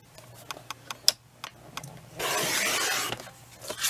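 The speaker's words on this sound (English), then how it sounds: "So I'm going to turn this around and just trim this down to 10 inches in my length here." Craft folder material being trimmed to length for a B6 traveler's notebook folder: a run of light ticks and taps, then a steady close scraping rub of about a second, with no talking.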